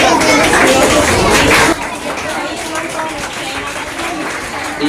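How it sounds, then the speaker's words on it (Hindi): An audience at a Sunflower Secondary School prize ceremony claps in a loud burst that lasts under two seconds, then fades into softer scattered clapping and crowd chatter. "तालियां।"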